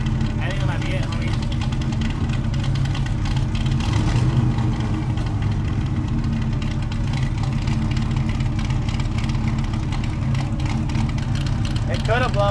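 A 1955 Chevy gasser's engine runs after sitting for 55 years, a loud rough idle with a swelling rev partway through, steady and close, with people talking over it.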